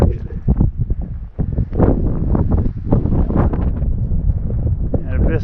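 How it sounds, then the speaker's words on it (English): Strong gusts buffet the microphone high on Kit Carson Peak in Colorado, a loud rumbling roar that surges and eases throughout, close and unbroken, with no clear voices. "the wind blows from that direction"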